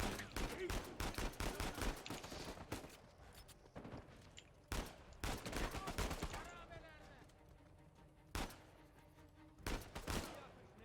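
Rapid gunfire bursts in the video game Uncharted 4: A Thief's End, loud clustered shots and machine-gun rattles with brief pauses between volleys and faint game sounds in the gaps.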